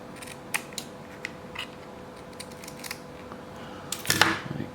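Small scissors snip cotton wick for a vape RTA, a few faint soft clicks spaced across the quiet, ending in a louder, closer cluster of snipping and handling noise.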